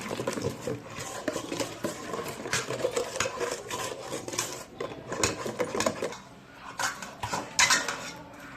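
A metal spoon stirs sugar into a mixture, scraping and clinking rapidly against the sides of the bowl in busy, uneven bursts, close and fairly loud, with brief pauses between strokes.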